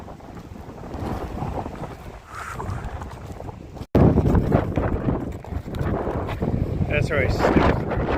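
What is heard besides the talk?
strong wind blowing over open water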